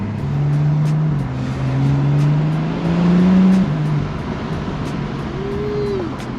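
A BMW M235i on a stage 2 map with a Dorch stage 2 fuel pump accelerates on the road, its engine drone climbing in pitch through steps as gears change, loud and steady from inside the car.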